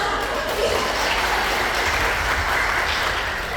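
Seminar participants at a public speaking session clap steadily for several seconds, a continuous wash of hand claps at moderate volume.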